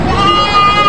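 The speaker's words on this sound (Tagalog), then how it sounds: "Daming kambing ni boss ngayon." Goats bleat at the Lucena livestock auction market in Quezon; a single nasal, wavering cry rises over a murmur of crowd chatter and voices.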